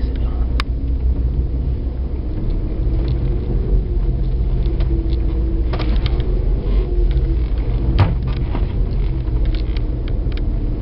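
Iveco Trakker CAS 30 fire truck engine, a steady deep diesel rumble running throughout at close range, with faint voices and clanks now and then over it.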